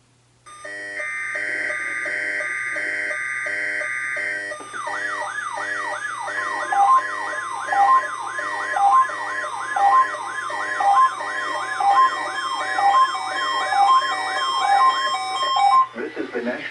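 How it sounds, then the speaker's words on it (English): A loud, steady electronic alert tone from a NOAA weather radio test sounds first, then a warbling siren-like tone pulses in regular waves for several seconds before cutting off. "The preceding signal was a test of the NOAA All Hazards Radio Public Warning System"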